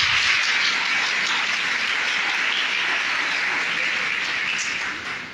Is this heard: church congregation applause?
yes